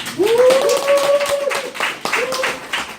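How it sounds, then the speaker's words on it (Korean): A seminar audience of restaurant owners claps together in a steady, full round of applause, with a voice calling out over the clapping. "제가 잘할 수 있도록 박수 한번 크게 보내주십시오"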